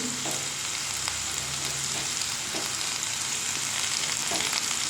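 Grated ginger frying in a hot pan, a steady, close sizzle and hiss running throughout with a few faint stirring clicks.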